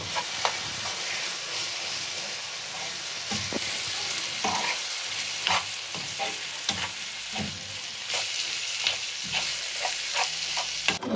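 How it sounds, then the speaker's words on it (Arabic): Chicken pieces fry in a hot pan with a continuous hissing sizzle, broken by scattered sharp crackles and occasional scraping stirs throughout. "دابا غندير الدجاج"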